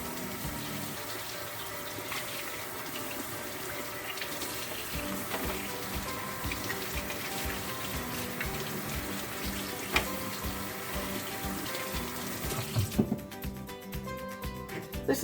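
Tap water runs steadily into a sink while a hand is washed, a constant rushing splash that cuts off abruptly near the end, with no talking.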